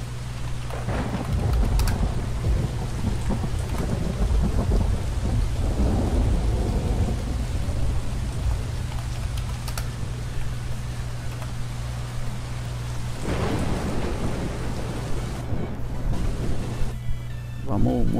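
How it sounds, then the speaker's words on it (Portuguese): Steady rainfall with rolling thunder from a realistic weather mod in Euro Truck Simulator 2, a constant hiss of rain under repeated deep rumbles and cracks, with someone speaking over it at times. "aí vocês vão ver também a questão do trovão"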